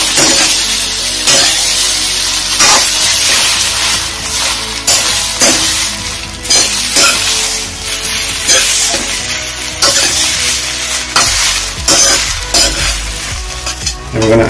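Bread upma is stirred in a frying pan over a loud, continuous sizzle, with rhythmic scraping and clattering strokes of the spoon across the pan, close and busy, with no voice.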